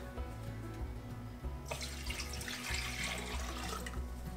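Water pours steadily from close by as it is combined with vinegar to make a brine for pickled okra, a continuous rushing stream that grows brighter midway through.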